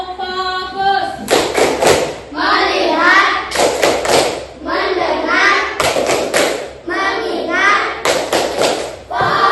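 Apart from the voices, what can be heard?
class doing rhythmic focus clapping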